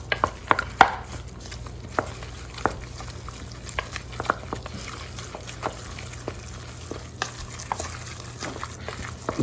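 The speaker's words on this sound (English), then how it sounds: "we're gonna stir this up like this" A meatball filling of ginger, sausage, mushrooms and scallion is stirred in a bowl, giving soft wet squelches and a series of sharp taps and clicks of the utensil against the side.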